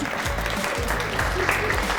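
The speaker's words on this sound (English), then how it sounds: "So you are our junior astronomers, so give yourselves a round of applause." A crowd applauds junior astronomers at an evening stargazing event, with steady clapping running throughout and a few faint voices beneath it.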